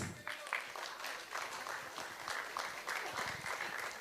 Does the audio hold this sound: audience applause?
yes